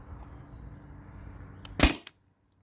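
A Tippmann TiPX paintball pistol running on CO2 fires a sharp, loud shot, followed by a fainter second pop, after a quiet stretch of low background hum.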